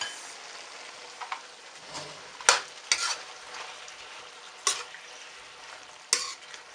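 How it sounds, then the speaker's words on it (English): A spoon scrapes and clinks in a pan as shrimp paste is stirred into frying pinakbet vegetables, sharp strokes at irregular intervals over a soft steady sizzle. "now we can add the shrimp paste. Just a little bit more. Okay, give it a good mix."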